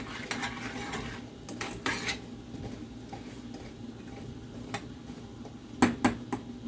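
Hard cranberries knocking and rattling in a cooking pot in a home kitchen, a quiet run of small clicks and taps with a few sharper clacks near the end, no talking.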